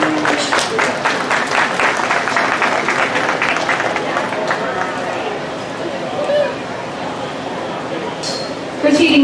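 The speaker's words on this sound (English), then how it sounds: "Go ahead and give them a round of applause" An audience claps at a dairy and beef show, a fairly loud round of applause in an arena that gradually thins out, with crowd murmur and faint clinks beneath it.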